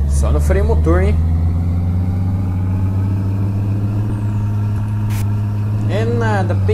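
A Volkswagen Constellation truck engine brakes in Euro Truck Simulator 2 with a loud, steady low diesel drone that holds throughout, while someone talks over it in bursts.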